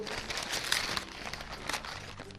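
An aluminium foil takeaway food package is unwrapped, giving close, soft crinkling and rustling in irregular bursts, quiet and continuous with no speech over it.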